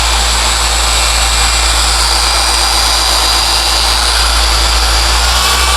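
An Adam's SK Pro blower runs at high speed with a loud, steady, close jet-like roar of rushing air that holds constant throughout. No one speaks.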